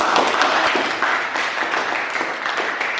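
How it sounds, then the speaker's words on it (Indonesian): A classroom of students clapping together, a dense, loud burst of applause that stays steady for a few seconds before easing slightly. "Kita beri tepuk tangan, aplaus semuanya."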